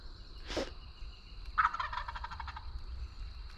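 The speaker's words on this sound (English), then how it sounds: "Gobbling like crazy." A wild turkey, a big bearded bull, gives a short burst and then a longer rattling gobble at moderate distance over faint background noise.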